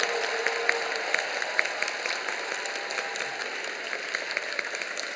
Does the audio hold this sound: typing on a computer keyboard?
no